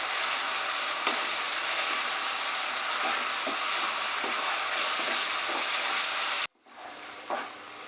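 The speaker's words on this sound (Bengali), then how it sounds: "আদা রসুন বাটা দিয়ে এটাকে আবার 2 মিনিট আমি ফ্রাই করব।" Ginger-garlic paste fries in a pan over medium heat with a loud, steady sizzle and occasional stirring scrapes, then the sizzle briefly cuts out and returns softer.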